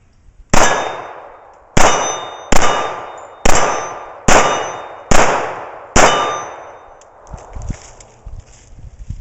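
Remington R1 1911 .45 ACP pistol firing at steel targets: six sharp, loud shots at a steady pace, each followed by a bright ringing clang that decays, then faint handling noises after the string.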